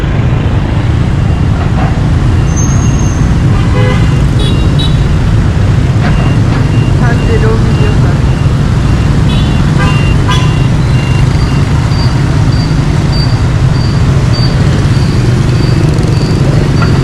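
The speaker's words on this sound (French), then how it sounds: "Encore un exemple de la circulation vietnamienne." Dense Hanoi street traffic in Vietnam, motorbikes and other vehicles streaming past, some riding against the flow, with a steady loud engine rumble and a string of short high horn beeps toward the end.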